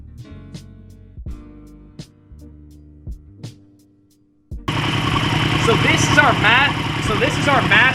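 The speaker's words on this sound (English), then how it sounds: "now I'm going to fire up the bike and let it idle, reach operating temperatures" A motorcycle engine fires up after a few faint clicks and settles into a steady, loud idle while being warmed to operating temperature before a throttle body sync.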